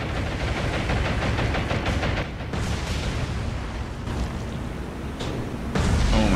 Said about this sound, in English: My God, the AA fire is just absolutely disgusting.